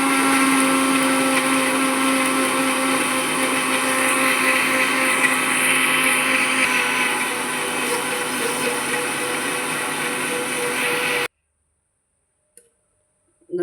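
A mixer grinder whirs loud and steady for about eleven seconds, grinding ingredients for a Tulu-style dish with tomato and onion, then cuts off abruptly into near silence.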